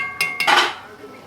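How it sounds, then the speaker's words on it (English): A cooking pot clanks down with metallic clatter, two sharp knocks followed by a louder ringing scrape, as a pot filled with water for pasta is set on an outdoor wood fire for street-food cooking. "Another pot just going on with water for pasta."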